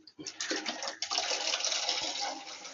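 Shower water runs steadily in a home bathroom, a broad hissing spray that starts after a brief pause and continues close and fairly loud, with a few faint bumps and no talk over it.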